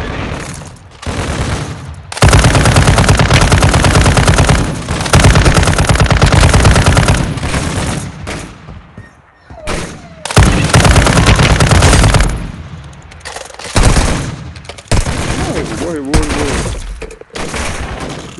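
Heavy machine gun fire in the mobile shooter Warzone Mobile, loud sustained bursts with short pauses between volleys, close and dense, with faint voices now and then.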